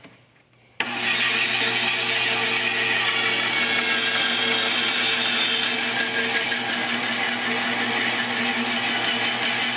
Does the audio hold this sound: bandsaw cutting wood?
yes